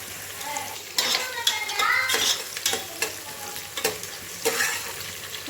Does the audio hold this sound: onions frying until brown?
yes